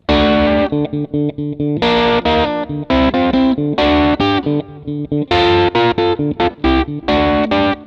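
Heavily distorted electric guitar in drop D tuning strikes triad chord after chord in choppy, rhythmic bursts, loud and close with short gaps between stabs.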